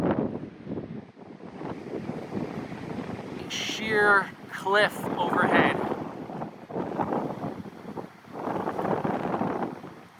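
Gusty wind buffets the microphone beside freezing winter water at a low level under a sheer cliff, a rough rumble running the whole time beneath steady close talking.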